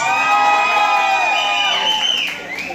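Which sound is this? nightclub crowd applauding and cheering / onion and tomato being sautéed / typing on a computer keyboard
nightclub crowd applauding and cheering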